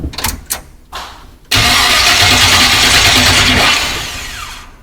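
A Ford F100 truck's key is turned: a few short clicks and thumps, then a sudden loud, sustained cranking whir from the starter that runs steadily before fading slightly at the end, close to the engine.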